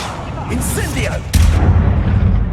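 An Incendio fire spell cast in Hogwarts Legacy, a sudden whooshing burst of flame that swells into a loud, sustained roar, heard alongside other game effects and a voice.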